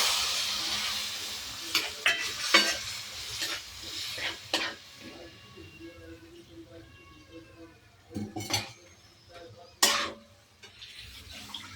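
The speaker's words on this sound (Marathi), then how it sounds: "हे बघा हलवून घ्यायचं आहे. पाणी टाकलं की जेवढं लागलं तेवढं पाणी टाकून घ्यायचं आधी." Semolina upma is stirred in a pan as water is added, giving wet scraping and sloshing with intermittent sizzles; someone talks over it.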